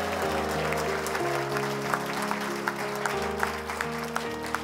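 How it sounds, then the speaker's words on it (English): Wedding guests applaud the couple during a reception, a sustained patter of clapping with scattered sharper claps over steady background music. "Everyone just give us a round of applause for the couple after three."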